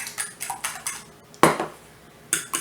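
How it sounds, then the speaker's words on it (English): A fork clicks against a bowl while whisking eggs, making a quick run of light, close taps with short pauses between them. "I just use a fork and whisk up my eggs."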